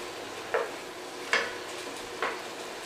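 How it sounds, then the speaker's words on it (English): Vegetables sizzling in a hot pan over medium-high heat, a steady soft frying hiss broken by three brief scraping stirs of a utensil against the pan. "stir it around until it gets completely surrounded with all of the vegetables, and let this reduce until almost dry"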